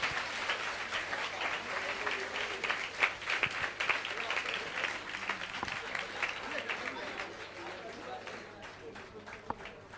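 An audience at a Jain religious discourse and puja gathering applauds steadily, with dense, continuous clapping from a large crowd that holds level throughout, while a voice speaks faintly underneath.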